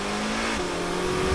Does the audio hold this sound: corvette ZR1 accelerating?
yes